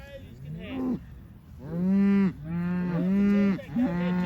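Cattle on a farm low loudly and close by in a series of long, drawn-out moos, several overlapping calls rising and falling one after another with no talk.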